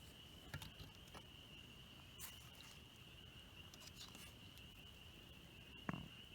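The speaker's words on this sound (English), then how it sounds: "Spring peeper." Spring peeper frogs call in a dense, steady high-pitched chorus at a vernal pool at night, a continuous shrill ringing that carries through the whole stretch, with a brief sharp knock close by near the end.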